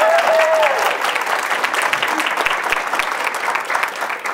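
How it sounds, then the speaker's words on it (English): Sustained audience applause for a keynote speaker at a company event, a loud dense patter of many hands clapping that holds steady throughout, with a brief voice-like tone near the start. "everybody give her a round of applause"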